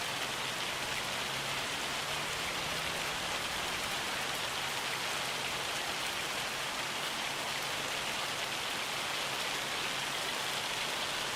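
Rain falls in the farming video game Farming Simulator 25 as an even, continuous hiss of drops that holds steady throughout, with no one speaking.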